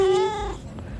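A cat gives a single short, close meow with a clear tonal pitch that slides and fades within about a second.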